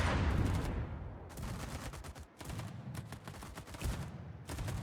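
Rapid volleys of explosions and gunfire from an airstrike in World of Warships, dense crackling bursts with a heavy low rumble at the start, then repeated sharp clusters of blasts, loud and close with brief gaps between.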